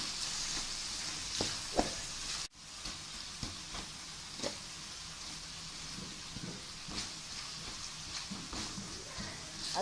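Chopped tomatoes sizzling in hot oil in a pan for sundakkai kulambu, a steady close hiss with occasional stirring clicks and pops throughout.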